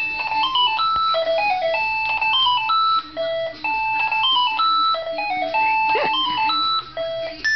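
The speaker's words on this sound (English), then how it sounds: "do you like this ringtone?" A bright electronic phone ringtone plays a bouncy, beeping melody that repeats continuously at steady volume, with no voices over it.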